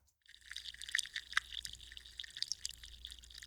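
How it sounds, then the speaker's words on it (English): A bubbling liquid sound sample, faint and close, with irregular popping bubbles and drips over a soft wet hiss, heard alone for a few seconds. "And then the bubbling."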